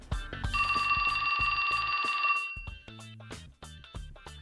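A cell phone rings in the video game 428: Shibuya Scramble, a steady electronic ringtone that sounds for about two seconds, then stops as music and effects continue.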